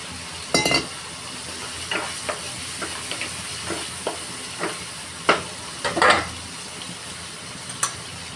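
A spoon stirs tomatoes and brinjal in a hot pan, with soft scraping strokes and faint clinks at irregular intervals over a quiet, low sizzle.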